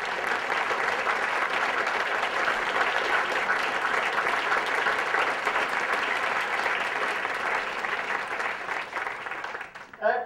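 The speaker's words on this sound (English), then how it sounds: "where else do new administrators get applauded as though they were on a game show or something?" Sustained audience applause at an open forum greeting a newly named interim dean, dense steady clapping that carries on for about ten seconds before tapering off near the end.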